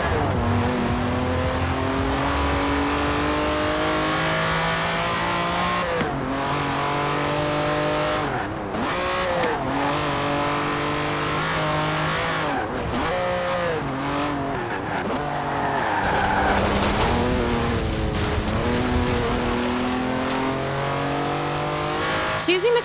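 A Lamborghini Countach racing in Forza Horizon 4, its engine revving hard through repeated gear changes with rising and falling pitch, tire squeal in places and a voice talking over it.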